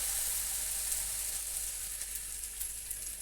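Puris fry in hot oil, a bright, steady sizzle with small crackling pops that holds at an even level throughout, close by and with no talking.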